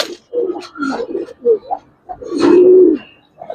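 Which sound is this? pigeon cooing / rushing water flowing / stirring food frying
pigeon cooing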